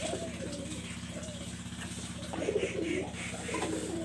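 Red-necked pigeons with blood-red eyes coo softly and repeatedly in a small enclosure, with low, rolling calls rising and falling over a steady background hum.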